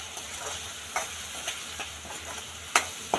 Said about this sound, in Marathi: तो पूर्ण तेलामध्ये व्यवस्थित फ्राय करून घेऊया